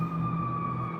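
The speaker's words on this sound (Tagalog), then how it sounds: "Ba yun? Fire truck." A fire truck siren near the Harbourfront by the Rogers Centre in Toronto gives a steady, sustained wail, moderately loud over a continuous city rumble.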